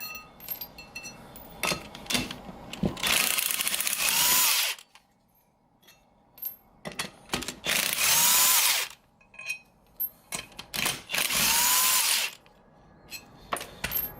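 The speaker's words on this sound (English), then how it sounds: "These 1/2-inch DeWalt guns pretty sick." DeWalt 1/2-inch impact gun working on wheels for a Datsun 280Z, loud hammering bursts of a second or two repeated several times with short gaps, plus light metallic clinks between them.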